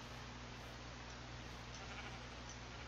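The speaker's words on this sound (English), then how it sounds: "Look, it's mountain sheep." Sheep bleating on a mountainside in the Minecraft survival game, the calls faint and steady under a constant hiss of background noise.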